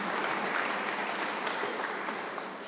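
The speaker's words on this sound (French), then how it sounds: "Sous vos applaudissements." Dense, even applause from the audience filling a hall at the inauguration of Henri Fabre's Canard seaplane at an aeronautics museum, slowly tapering over a few seconds.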